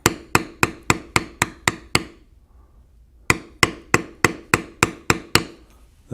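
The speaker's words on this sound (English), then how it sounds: "Please notice I'm beveling on one side of the feather." A metal beveling tool struck with a mallet on carved leather while shaping an owl feather gives sharp, evenly spaced taps, eight in a quick run, a short pause, then about eight more, close and crisp.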